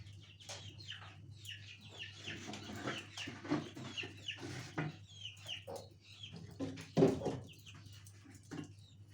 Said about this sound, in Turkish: Civcivler vıç vıç vıç vıç ediyor.